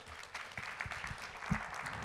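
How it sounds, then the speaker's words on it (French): Brief, faint clapping from a forum audience at a climate conference in Toulouse, a soft scattered patter with a few louder claps. "Vous repartez sous les applaudissements."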